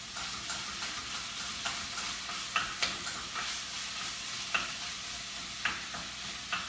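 Ground beef sizzling in a pan for meat sauce as a spoon breaks it apart, with a steady frying hiss under soft, regular scraping taps from the utensil, close and moderately quiet.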